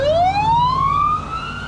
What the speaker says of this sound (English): Now I hear a lot more sirens in Delhi these days than I think I've ever heard.